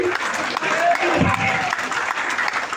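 A crowd at a stage event keeps clapping in a dense, steady patter, while a voice speaks over the applause.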